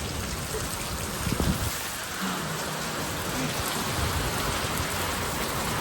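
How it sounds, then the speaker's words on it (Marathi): Steady heavy rain of the first monsoon shower pours down continuously as a dense hiss on surfaces near a shop, with a few brief nearby clatters and no talking. "पाऊस पडायला लागला, फर्स्ट पाऊस आहे नाही का"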